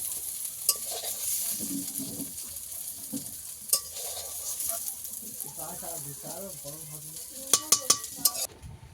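Brinjal with neem leaves fries in a pan with a soft continuous sizzle, broken by scraping stirs and a few sharp clinks of a spatula against metal, close and quiet.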